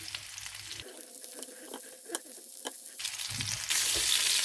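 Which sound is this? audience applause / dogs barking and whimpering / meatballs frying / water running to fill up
meatballs frying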